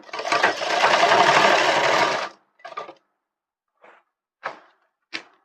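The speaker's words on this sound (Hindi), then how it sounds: "इस तरह से हम इसको फोल्ड करेंगे। अच्छी तरीके से इसको रखेंगे और सिलाई लगाएंगे" Sewing machine stitching the seat seam of a pair of trousers: a loud continuous run of about two seconds, then four short bursts of stitching separated by pauses, with no talking.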